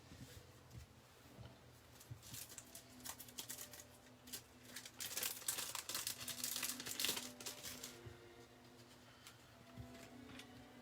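Childproof plastic packaging gets cut open along its side, giving a dense run of crinkling, crackling plastic with small snips and rustles. It is close and fairly quiet, and it peaks in the middle of the stretch.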